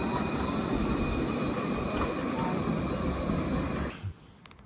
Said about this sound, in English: The only way to travel in Bordeaux is on the tram.